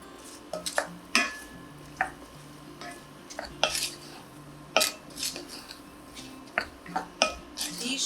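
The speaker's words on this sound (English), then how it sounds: "while our mushrooms are getting soft" Mushrooms cooking in a pot with salt and pepper, heard as a quiet bubbling sizzle broken by repeated clinks and scrapes of a utensil against the pot, close by.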